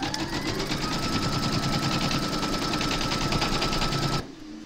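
An embroidery machine runs a fast, even, rapid-fire stitching chatter while sewing a placement outline for appliqué batting, loud and close, then stops abruptly just before the end, leaving a quieter hum.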